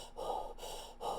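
A voice imitates Darth Vader's masked breathing, rhythmic hissing inhales and exhales repeated in close succession, loud and near with no talking.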